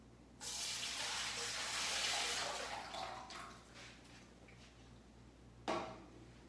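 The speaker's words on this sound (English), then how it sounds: "at first I would pour the mix of the yeast with water" Yeast and water mix pours into a bakery mixing machine for prosphora bread as a quiet, splashing gush lasting a few seconds, then tapering off, followed by a brief knock near the end.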